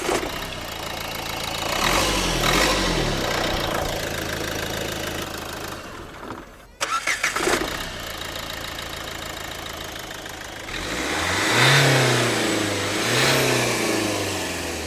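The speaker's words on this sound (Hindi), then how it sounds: "सबसे पहले लेजेंडरी डस्टर की भाई आवाज सुनते हैं, डीजल में ये कैसी आवाज निकालती थी।" A Renault Duster with the DCI 110 diesel engine revs up and settles back, the engine rising, dropping away briefly, then climbing again in a steady close-up drone with no talking.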